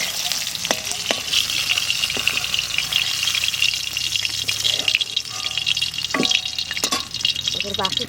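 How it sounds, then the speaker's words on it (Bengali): Pond fish fries in hot oil in a pan, a bright continuous sizzle with occasional clinks and scrapes of a utensil as pieces are turned, close up and without talk. "মাছটা বেশি ভাজবো না"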